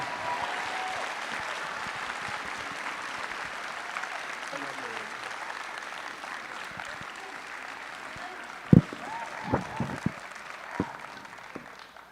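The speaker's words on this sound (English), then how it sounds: "So it would be my honor if you guys could join me in a round of applause for Starlight Porter." Steady audience applause fills a school senior awards night, a continuous clapping wash from a large indoor crowd lasting the whole stretch, with a few louder individual claps and knocks near the end.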